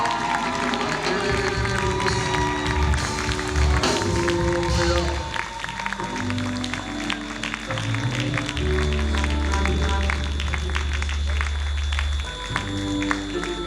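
A church congregation greets a pastor with sustained cheering and applause, a dense crowd roar that carries on loud and unbroken, with music or tones sounding underneath.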